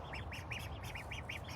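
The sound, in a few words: mallard duckling quacking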